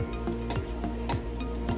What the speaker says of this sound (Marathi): आपल्याला प्रत्येक अनारसा एक एकच तळायचा आहे आणि एकदम मीडियम हीटवरच तळायचा आहे